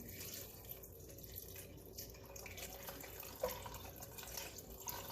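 Water runs from a tap into a Dutch oven of beef for burgundy stew, a steady faint pour with small splashes and a brief louder spatter, heard alone without talk.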